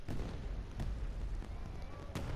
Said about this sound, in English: Ooh, fireworks!